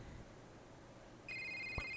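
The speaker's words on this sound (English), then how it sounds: "we get a phone call." A phone rings in the video game A Short Hike, a bright electronic trill starting abruptly after quiet ambience and holding steady to the end.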